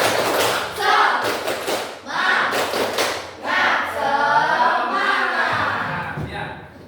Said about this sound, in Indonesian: kalau masih kita beri tepuk semangat